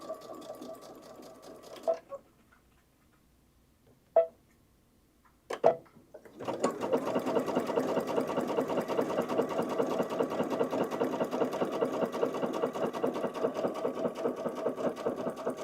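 A Brother sewing machine stitches fabric along a line: a few soft clicks and taps first, then the motor starts and runs in a steady, close, rapid whirring rhythm to the end.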